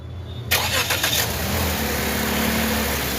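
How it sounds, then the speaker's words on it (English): Lexus IS250 engine cranking and catching after a short quiet moment, then settling into a steady close idle with no talk. "Start the car, please."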